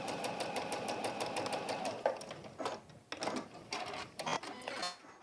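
A sewing machine runs a quilt seam in short bursts of fast mechanical stitching with brief pauses and clicks, close and moderately loud, with no talking.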